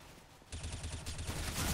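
Rapid automatic gunfire in the video game CS:GO, a quick burst of sharp, closely spaced shots that starts after a brief quieter moment and runs on to the end with no voices.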